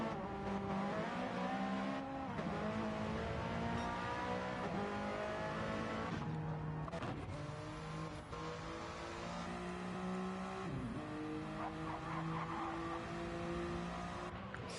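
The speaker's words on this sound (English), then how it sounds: "Giffer absolutely revving the shit out of the car" A TCR race car engine revs hard on the Blue Moon infield circuit, its high harmonic whine climbing and dropping through gear changes, with brief tire noise, loud and continuous for the whole stretch.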